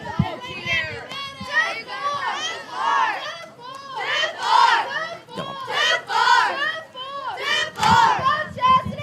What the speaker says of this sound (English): you hear the dugout coming alive, cheering on Washington